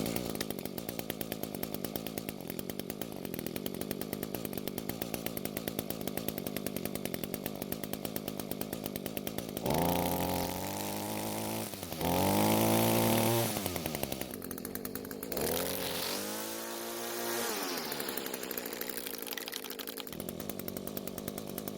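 An electric string trimmer runs steadily and loudly with a buzzing whine for about ten seconds, then cuts out and restarts in short uneven bursts with shifting pitch.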